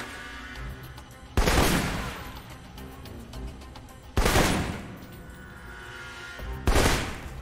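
Assault rifle fire in the video game Alpha Protocol: three separate loud bursts, each a sharp crack that decays over about a second, with quiet game ambience in the gaps.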